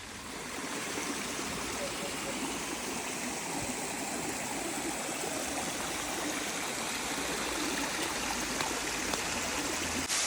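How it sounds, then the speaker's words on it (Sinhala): Kalu Ella waterfall beside a nature cottage in Belihuloya, its water rushing in a steady, even roar that holds for the whole stretch without a break. "ඔයාලට මම කොටේජ් එකේ ඉන්නකොට ලස්සන දියල්ලක් පෙන්නවනේ. ඒ තමයි මේ දියල්ල."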